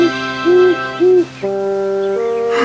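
Soft owl hoots in a French children's story, two short rounded calls followed by a longer sustained tone, clear and close with no talk.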